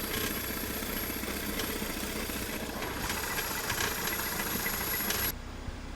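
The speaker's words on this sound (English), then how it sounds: "very soon the idle got really rough again and the smoke came back, along with some really scary noises" A rough-idling Audi engine with mechanical damage and a failing fuel pump, running steadily up close with a broad, rattling, knocking drone and harsh noises, cutting to a quieter tone near the end.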